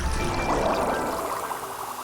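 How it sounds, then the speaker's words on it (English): Water pours and rushes loudly and steadily, a dense broadband wash that fades slightly toward the end, in the underwater video game Aquanaut's Holiday: Hidden Memories. "Intense water noises."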